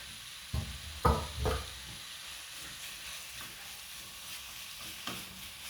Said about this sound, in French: je vais commencer à cuire mon poulet. Donc là, je mets un filet d'huile d'olive